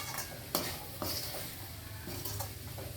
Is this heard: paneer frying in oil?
yes